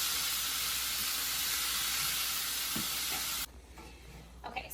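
Ground beef sizzles loudly in a pan for pâté chinois, a dense, constant hiss that cuts off abruptly near the end, leaving only faint room sound.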